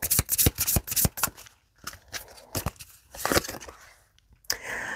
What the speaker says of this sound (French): On va tirer une dernière carte.